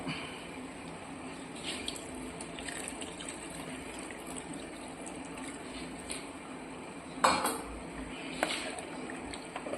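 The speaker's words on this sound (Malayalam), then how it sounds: "നമുക്കിനി ഇതിന് ആവശ്യമായിട്ടുള്ള വെള്ളം ഒഴിച്ചു കൊടുക്കാം" Water poured into a pot of brinjal curry being cooked at home gives a soft, faint splashing hiss, with a couple of brief louder gushes near the end.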